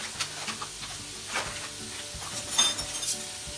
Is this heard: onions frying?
yes